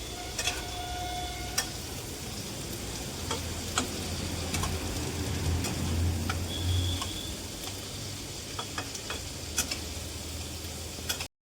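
Onion, garlic, chili and prawn heads fry in oil in a pan, a constant close sizzle broken by sharp ticks and scraping stirs.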